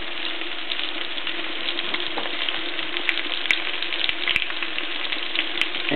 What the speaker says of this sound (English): I'm go ahead and cook the oysters first